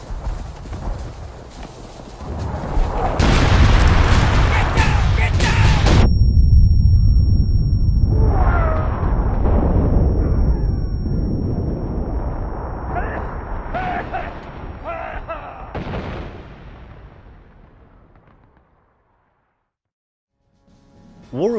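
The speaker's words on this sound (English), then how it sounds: "Incoming artillery!" Incoming artillery in the War of Rights game, set in the American Civil War Maryland campaign, lands as heavy rumbling blasts and long roaring explosions that swell and fade, with shouting voices mixed in.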